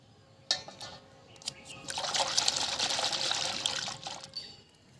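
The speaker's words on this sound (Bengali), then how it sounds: "এই গরম জলের ভিতরে দিয়ে দেব আর এক ফালি কিন্তু লেবুর রস" Lemon juice is poured into hot water in a basin, making a close liquid trickle that swells for about two seconds and then tapers off, with a few small knocks before and after.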